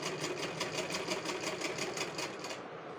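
A sewing machine runs steadily, stitching stretched elastic around the neckline of a girl's fabric top. Its fast, even mechanical chatter is close and continuous, then trails off at the end.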